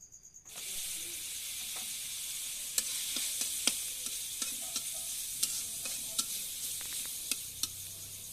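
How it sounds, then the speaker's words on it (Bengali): Spices frying and being stirred in a pan for a taro stolon and dried fish curry, chilli powder, turmeric and salt among them: a steady loud sizzle with repeated sharp spatula scrapes and clicks, close up, no talk. "কিছুক্ষণ মশলাকে একটু ভেজে নেব"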